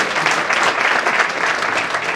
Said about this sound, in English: Can we clap for the judges?